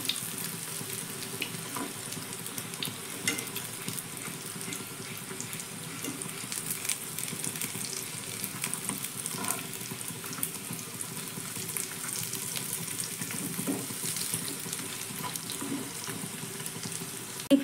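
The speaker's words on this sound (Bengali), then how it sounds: "তো টিফিনগুলো এখানে খুব সুন্দর করে ভাজা হয়ে গেছে" Semolina snacks fry in hot oil with a soft, continuous sizzle that stays steady and fairly quiet.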